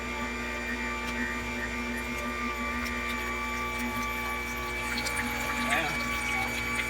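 Electric juicer running steadily as it juices orange slices, a continuous mechanical whir with faint liquid sounds throughout, close by.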